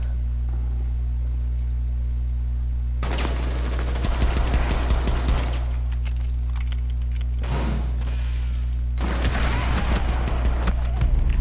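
Rapid bursts of video game gunfire crackle in three loud clusters over a steady electronic hum, with brief gaps between the volleys.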